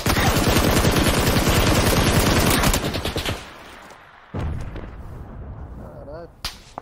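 Gunfire in the video game PUBG: a loud, rapid automatic burst of closely spaced shots runs for several seconds, then breaks off into scattered single shots, with a few echoing cracks afterward.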